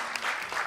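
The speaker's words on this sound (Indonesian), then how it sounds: "Tepuk tangan dulu dong buat semua." Audience applause at an Indonesian film talk event, a short, dense burst of clapping at moderate loudness.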